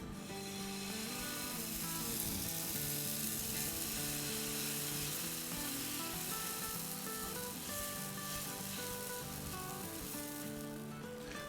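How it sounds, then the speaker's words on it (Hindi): Batter cooks on a lightly oiled pan for an atta-based aloo paratha, producing a steady, dense sizzle that holds without pause, faint in level and with no talking. "पैन में ऑयल ये डालेंगे इसमें बैटर।"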